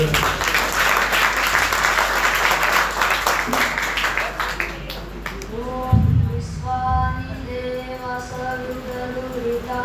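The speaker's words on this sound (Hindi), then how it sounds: "तालियां जोर से बजा दो" Audience at an Arya Samaj Shravani festival morning session in Noida claps loudly in sustained applause for about five seconds, then the clapping thins out as a voice begins singing or speaking.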